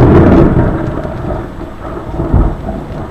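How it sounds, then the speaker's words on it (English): A loud rolling rumble of thunder fades into steady rainfall, with another low roll swelling near the end. "the sound of the thunder and the rain."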